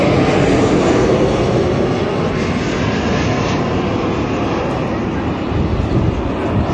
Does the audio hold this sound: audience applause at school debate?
no